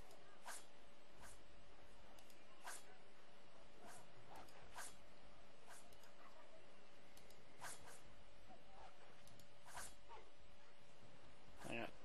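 Wild dogs in the martial arts video game Age of Wushu give short, repeated yelps and barks in scattered bursts over a low steady hum, with someone talking at times.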